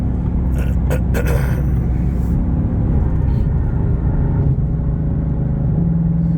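A Ford GT500 cruises in fourth gear, its engine giving a loud, continuous, deep rumble from inside the car, with a few faint sharp clicks early on.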